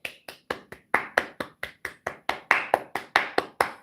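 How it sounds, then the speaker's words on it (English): Hands clap in a steady run of about eighteen sharp, close claps at a fairly even quick pace, each crack standing clear with no voices over them. "But clap it up."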